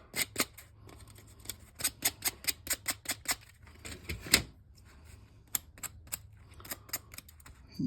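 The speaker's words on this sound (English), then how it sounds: "Gotta get the blade started before you can make the cut." A saw blade cuts through plastic LEGO train track in quick, evenly spaced rasping strokes, close and crisp, with a short pause midway before the sawing resumes.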